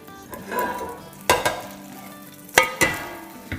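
A dish sizzles steadily in a hot pan after being flipped, with a continuous frying hiss and a few loud clanks of a utensil against the pan.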